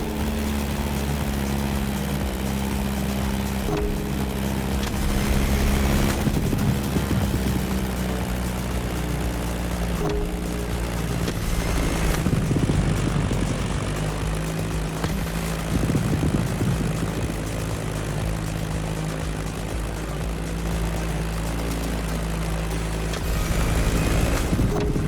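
A Beechcraft Staggerwing propeller plane drones steadily in flight in The Crew Motorfest, its engine a loud continuous hum with a rough, throbbing low end that swells slightly a few times over twenty-five seconds.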